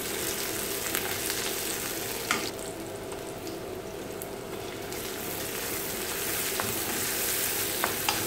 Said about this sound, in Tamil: கருவேப்பிலை, இஞ்சி பூண்டு இந்த மாதிரி நல்லா நச்சுக்கணும். வெங்காயம் நல்லா வதங்கணும்.